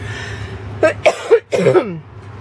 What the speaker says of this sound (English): Sorry, I get coughing attacks because I haven't used my inhaler today